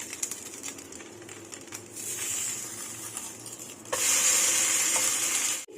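A bread uthappam is flipped in an oiled pan, giving a soft hiss with a few light taps, then a sudden louder, brighter sizzle that holds steadily until the end.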